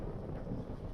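A wind gust at the coast near Nazaré, Portugal, roars as a dense, broadband rumble buffeting the microphone, steady and loud for the whole brief moment.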